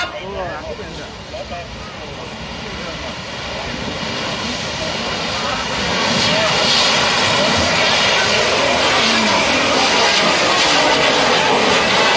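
A large Thai ta lai spinning firework rocket at a rocket festival in Kut Wa, lit on its launch stand, gives a loud, steadily building roaring whoosh that swells and holds, with crowd voices under it.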